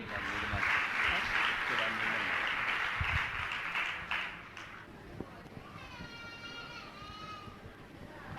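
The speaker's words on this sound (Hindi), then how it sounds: "तालियां बजाइए।" An audience claps steadily at a Jain religious question-and-answer gathering, a broad wash of applause for about five seconds that fades, followed by quieter room noise with a faint tonal voice or chant in the background.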